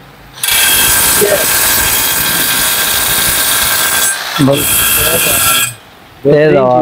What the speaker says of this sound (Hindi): ये ड्रिलिंग मोड में डाला आपने। अब ये चेक करें, इसकी पावर जरा दिखाएं।